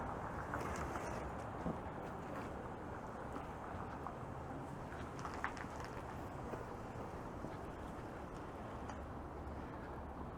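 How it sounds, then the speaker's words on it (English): Strong, steady wind roars across the microphone on a cold, quiet Sunday street in Toronto's Parkdale neighbourhood, a continuous loud buffeting rush with no pauses and no voices. "this is a very strong wind right now"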